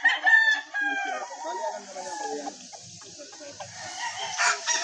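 A Firebird regular Class AB gamecock rooster crows loudly and close, one long drawn-out call followed by quieter clucking and faint farmyard noise.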